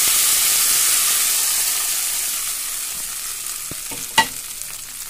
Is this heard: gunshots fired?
no